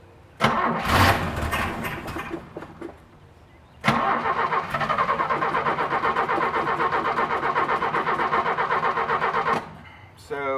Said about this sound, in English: We're going to go ahead and hit the ignition, hit the starter, and see if she runs.